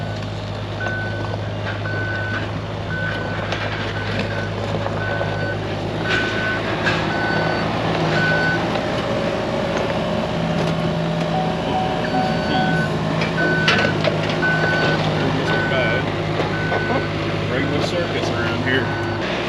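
A truck's reversing beeper sounds in a steady repeating pulse while it backs up to a trailer at a pole barn job site, over a continuous engine rumble, with people talking nearby.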